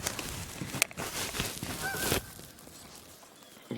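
A goose out in the wild honks loudly and repeatedly, its harsh, nasal calls close by over a rough, noisy outdoor background.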